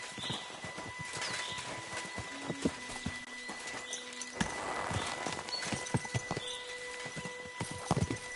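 Horse hooves clip-clopping in the medieval game Kingdom Come 2, a quiet, uneven series of hoof knocks with a faint neigh and light background ambience.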